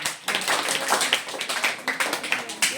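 Rhythmic, fairly loud clapping from pupils in a school classroom, applauding a child, with sharp repeated claps in a steady beat and some voices mixed in.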